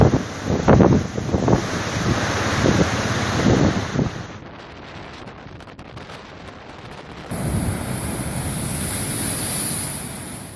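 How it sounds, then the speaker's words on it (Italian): Strong wind gusts along a stormy coastline, roaring and buffeting the microphone over crashing surf, dipping briefly before surging back loud and steady. "c'è molto vento"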